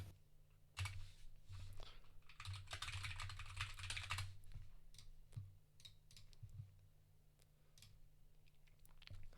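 Quick, rattling keystrokes on a computer keyboard during an online TETR.IO tournament match, with dense bursts of clacking that thin into scattered individual presses, close to the microphone and with no speech.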